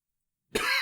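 After silence, a single harsh, close cough bursts out loudly and rasps on briefly.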